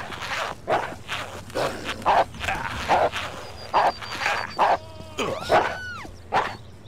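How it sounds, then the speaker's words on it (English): Dogs barking and yipping while chasing the player in the game Postal 2, repeated sharp barks in a steady run over a busy ambient game background, with a few whistling tonal effects near the end. "Dogs after me, cops after me"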